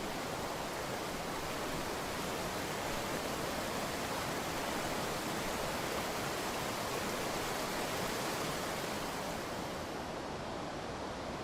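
River water flowing steadily beneath a solid Roman stone bridge on an old Roman road crossing the Vivei, a continuous broadband rush without pauses.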